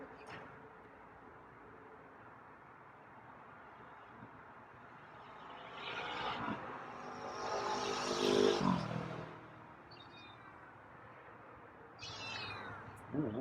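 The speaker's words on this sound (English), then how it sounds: "Oh, that's a louder meow." Feral cat meowing outdoors on a windy, cooling day, a few faint cries followed by a louder drawn-out meow, with wind noise throughout.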